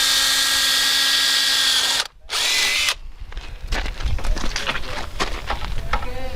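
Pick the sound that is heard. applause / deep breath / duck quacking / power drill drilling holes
power drill drilling holes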